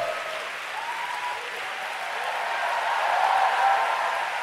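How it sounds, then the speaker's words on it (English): A congregation clapping at a church talk, a steady wash of applause that swells slightly louder toward the end, with a faint tonal hum beneath. "Give the Lord a big clap."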